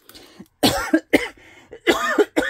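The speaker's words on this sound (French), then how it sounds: "J'ai encore un reste de mauvaise toux." Several harsh, loud coughs in quick bursts with short pauses between, close by, with no talking.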